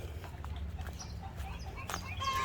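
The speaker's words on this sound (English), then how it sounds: "Let's go let these birds out." Backyard homestead chickens being let out of their coop, soft clucks and brief calls over a steady low rumble of outdoor background noise, with a faint high tone near the end.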